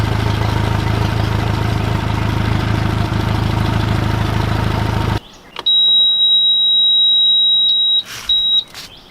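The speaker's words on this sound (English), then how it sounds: "We have to close this alarm." Steady electronic alarm tone from the digital readout of a Suzuki DF140A four-stroke outboard, a continuous high beep that starts abruptly after a loud engine-like rumble cuts off, then breaks into a few short chirps near the end.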